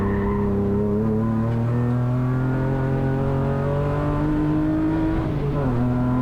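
A BMW E36 rallycross car races at speed, its engine droning steadily with rising and falling pitch as it accelerates, tires scrubbing and squealing faintly under a continuous loud mechanical roar.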